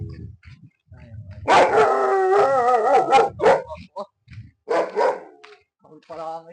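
A dog howls in long wavering tones, then gives a few sharp barks, fairly close, with quiet gaps and faint voices around it, during a weekend neighborhood clean-up drive in Barangay Concepcion.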